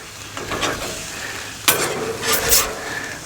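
Pork chops on a grill sizzle steadily and loudly, with a couple of sharp clanking scrapes as they are turned a quarter turn, and the hiss continues underneath throughout.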